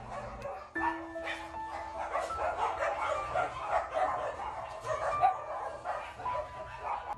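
Three small stray puppies that lost their mother whimper and yip in thin, high, overlapping cries, close and fairly quiet, with a sustained whine running through much of it.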